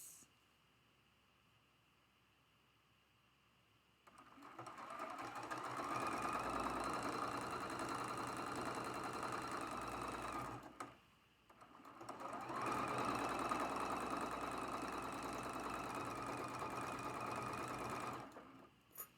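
Sewing machine stitching the seams of a spool quilt block, running steadily for two long bursts with a brief pause between them, close and fairly loud, after a quiet stretch at the start.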